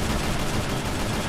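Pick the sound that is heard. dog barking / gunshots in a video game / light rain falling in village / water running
gunshots in a video game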